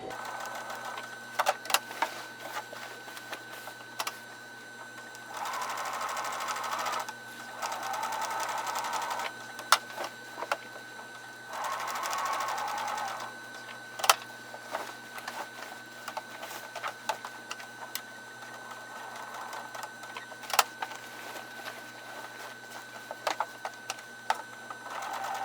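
A sewing machine stitching quilting arcs on a quilt runs in steady bursts with short pauses between passes, close and fairly loud, with light clicks and handling noises throughout.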